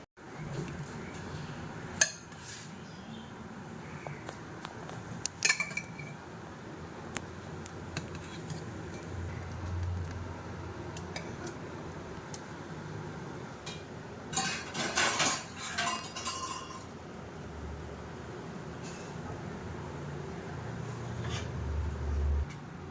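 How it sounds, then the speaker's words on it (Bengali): Khichuri being stirred in a cooking pot: scattered metallic clinks and scrapes of a spoon against the pot, with a busier cluster midway, over a quiet kitchen background. "এই যে একটুখানি নাড়াচাড়া দিয়ে দিলাম"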